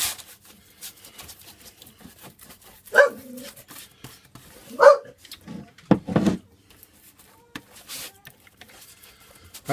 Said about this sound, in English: That's my dog barking, unfortunately.